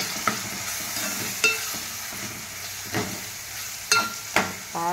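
Green chillies and ginger garlic paste fry in a pan with a continuous sizzle, punctuated by several distinct scraping stirs of a utensil, close and fairly loud.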